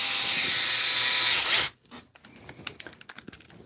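A loud, continuous whir from a power screwdriver driving screws into an RC car stops abruptly and gives way to quieter clicks and handling of small parts.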